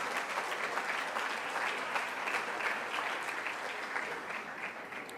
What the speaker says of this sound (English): And let's all applaud.